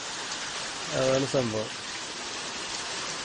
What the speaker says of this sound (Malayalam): മഴ. ഞാൻ വന്നിട്ട് മഴ ഇതുവരെ നിന്നിട്ട് തന്നെയല്ല.